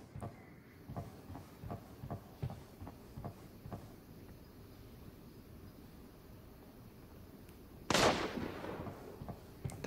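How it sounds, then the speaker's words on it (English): A string of distant SKS rifle shots in the mobile shooter Arena Breakout, faint and irregular, followed by one much louder, closer blast with a hissing tail near the end. "That's an SKS."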